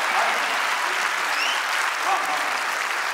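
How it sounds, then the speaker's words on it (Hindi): An audience at a Hindi comedy poetry show applauds in steady, dense clapping that holds at an even level throughout. "और मेरे लिए तालियां इसलिए बजाइए कि भाजपा के सर्वाधिक सदस्य बनाने वाला आदमी आपके सामने खड़ा हुआ है।"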